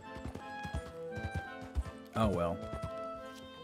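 Horse hooves clip-clop in a Red Dead Western video game, a run of near hoofbeats followed by a loud neigh, with someone talking briefly over them.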